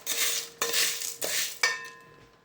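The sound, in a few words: stirring sugar and green coconut in a pan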